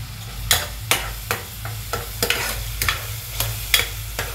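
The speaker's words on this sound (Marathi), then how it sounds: "चांगलं परतून घ्यायचंय" Red chili powder masala for a field bean curry is sautéed in a pan, with a loud, regular rhythm of spatula scrapes against the metal over a constant background fry hiss.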